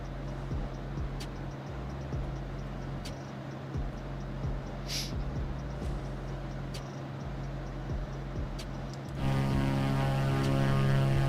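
Steady drone of an aircraft engine in flight in a video game flight simulator, continuous and even, growing louder and more tonal near the end.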